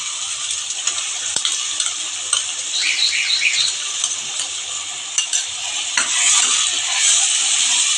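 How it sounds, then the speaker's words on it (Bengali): Onion paste frying over browned onions in a pan for a Bhangar fish masala curry, a steady close sizzle with a few faint scrapes and clinks of a utensil, no talking. "এখন আমি পেঁয়াজ বাটা দিচ্ছি"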